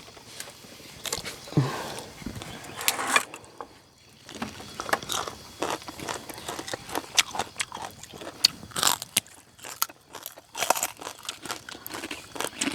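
Crunchy fried beef skin crackling eaten with papaya salad in a hut, giving a run of close, irregular bites and crunches that continue throughout with no talk.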